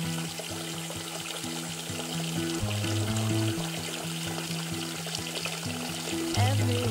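In the Roblox Bloxburg game, water pours steadily into a baby bathtub, a continuous splashing flow with a looping game tune behind it and no talking.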